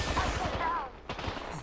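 Automatic gunfire bursts in the Apex Legends battle royale game, a Season 14 Arenas match played as Seer on PS4, rattling loudly through the short moment with a sharp crack near the end, mixed with game sounds.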